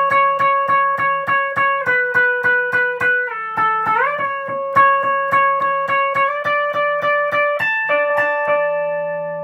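Electric guitar lead line from the pre-chorus of Open Up The Heavens, a steady run of picked eighth notes with sustained tones, a slide and shifting pitches, played alone and clearly up front.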